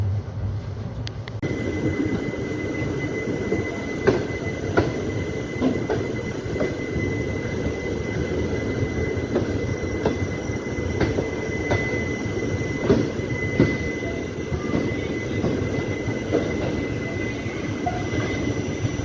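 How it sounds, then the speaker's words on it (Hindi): The BSB Express train rumbles steadily at Jaunpur junction, with a constant heavy roll, periodic clicks of the wheels over rail joints and a thin squealing tone above, sustained and close throughout, with no talking. "ये हमारी ट्रेन है पीछे।"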